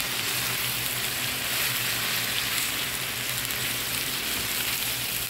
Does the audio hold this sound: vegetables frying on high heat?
yes